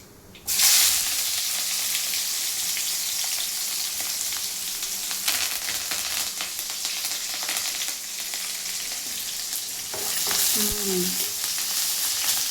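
Onions frying in a pan until brown, a sudden burst of loud sizzling that holds steady with stirring scrapes, swelling again near the end with a few clinks.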